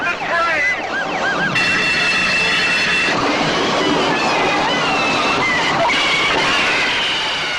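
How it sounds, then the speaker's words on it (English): A train grinds toward a stop with a sustained high metallic squeal and rumble that stays loud and continuous throughout, with no talking. "And for the Supertrain to come to a stop, creating an even bigger mess."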